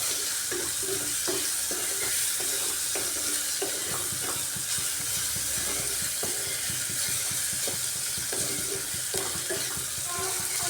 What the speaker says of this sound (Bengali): এভাবে পেঁয়াজটাকে একটু ভাজা ভাজা করে নিচ্ছি, যাতে করে পেঁয়াজটা সফট হয়ে যায়